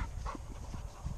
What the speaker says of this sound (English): Oh, he's still a puppy.